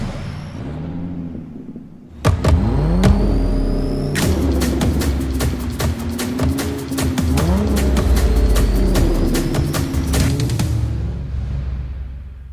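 C7 Corvette with an aftermarket exhaust revving very loudly, several sharp throttle blips and sustained howling revs over about ten seconds, close and dominant with no talk.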